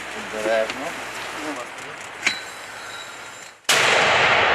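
At the front line, a mortar or artillery round goes off with a sudden loud, close blast whose roar stays up until the end. Voices talk in the quieter stretch before the shot.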